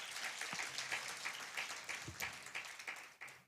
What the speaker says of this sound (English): We clap for him once again.